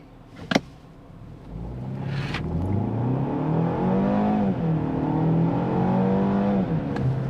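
A 2023 BMW X1 xDrive28i luxury SUV accelerating, its engine note rising steadily through the gears at a continuous, moderately loud level, with a sharp click near the start.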